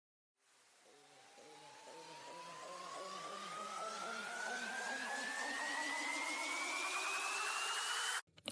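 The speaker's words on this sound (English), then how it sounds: "Then I have these some risers." A rising riser effect in an electronic dance track sweeps steadily upward in pitch over about eight seconds, building from quiet to loud beneath pulsing chopped layers, then cuts off abruptly near the end.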